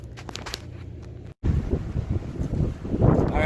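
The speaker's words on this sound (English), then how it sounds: "it's windy out today" Wind buffets the microphone in heavy, uneven gusts, a low roaring rumble after a brief cut, with no voices.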